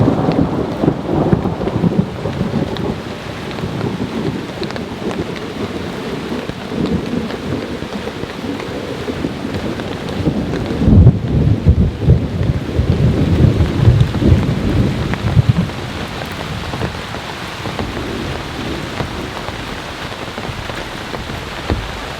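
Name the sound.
thunderstorm with heavy rain while camping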